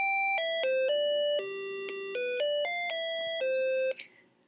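A micro:bit's bright electronic beeper plays the Peppa Pig tune in pure tones, one note after another at a steady pace, then stops abruptly.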